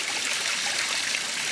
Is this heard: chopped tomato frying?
no